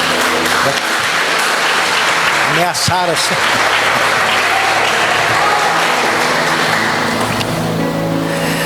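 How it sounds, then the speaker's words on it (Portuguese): A church congregation applauds for the Lord during a sermon, a loud, continuous rush of clapping heard alongside a voice speaking briefly over it. "Pode dar uma salva de palmas para o Senhor"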